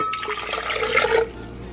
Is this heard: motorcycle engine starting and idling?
no